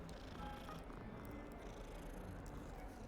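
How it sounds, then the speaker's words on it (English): A cat in Hogwarts Legacy purrs while being petted, a low continuous rumbling purr held steadily for a few seconds under faint background ambience. "I pet the cat."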